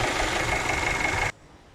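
A 1971 Volvo 145 engine with Stromberg carburettor, revived after sitting over ten years, idles slightly rough as a steady close drone, then cuts off abruptly near the end.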